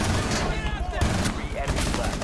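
Rapid automatic fire from a Vector submachine gun in the Rainbow Six Siege video game, loud, dense bursts packed close together across the whole moment, with a voice talking over it.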